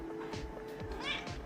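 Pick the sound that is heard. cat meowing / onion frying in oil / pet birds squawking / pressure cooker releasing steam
cat meowing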